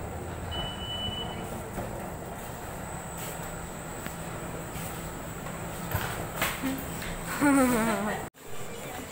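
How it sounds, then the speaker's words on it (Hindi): A train stands at Pataliputra railway station amid a steady rumbling platform din with scattered clanks, a brief whistle-like tone and a louder squealing burst near the end before a sudden cut. "तो ये ट्रेन लगी हुई है हमारी और हमें बस चढ़ जाना है।"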